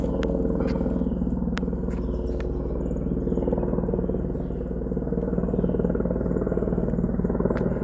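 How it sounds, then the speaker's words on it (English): A helicopter passes overhead at Clements Bay Park, its steady low rotor drone loud and continuous throughout, with a few faint sharp clicks and outdoor background noise. "Hear the helicopter?"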